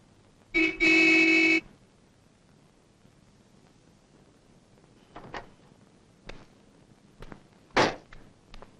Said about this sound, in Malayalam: ഗണേശ, എന്താടാ കാറ് ഹോണടിച്ചാ വന്നൂടെ നിനക്ക്?